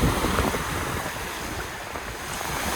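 Steady wind and rushing waves wash around a sailboat running downwind at sea, a continuous broadband roar with microphone buffeting and no talk.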